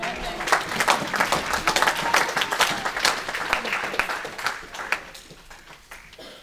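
A church congregation breaks into sustained applause for the Lord during a French-language sermon, with many hands clapping and voices mingling in the crowd before the clapping fades.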